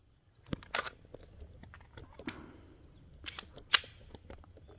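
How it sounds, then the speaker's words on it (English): Handling and loading a pistol during a basic handgun and concealed-carry class, a series of small metallic clicks and clacks with one sharp snap near the end, close and fairly quiet. "Now when you're ready, go in and load your pistol."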